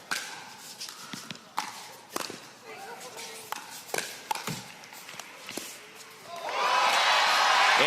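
A crowd at an ultimate frisbee game between Chicago Slice and St. Louis Shock breaks into loud cheering near the end, after scattered footsteps and thuds on the field.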